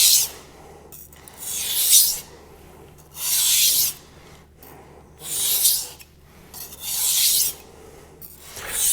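Four close, rhythmic rasping strokes of a kitchen knife drawn edge-leading across a 400 grit whetstone, each a loud scrape of about a second separated by short quiet gaps.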